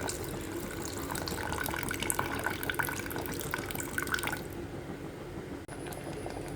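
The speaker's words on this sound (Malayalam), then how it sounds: "ഇനി നമുക്ക് വാളൻപുളി പിഴിഞ്ഞ വെള്ളം ഒഴിച്ച് കൊടുക്കാം." Tamarind water being poured into a simmering pot of colocasia (taro) curry: a steady splashing pour runs for about four seconds, then stops, leaving a quieter room.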